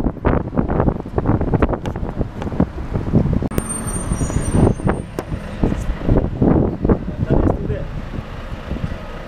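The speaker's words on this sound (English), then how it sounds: "There's a bus." A route 263 city bus pulls up at a stop on a cloudy evening, its engine rumbling low beneath gusting wind noise with a brief hiss like an air brake, while a person talks nearby throughout.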